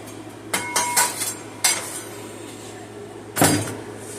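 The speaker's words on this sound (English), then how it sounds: "Now I'll go ahead and I'll just stir that in." A spoon stirs seasoning into rice in a metal pot, making several sharp clinks and scrapes in irregular bursts, close and fairly loud, with quiet gaps between strokes.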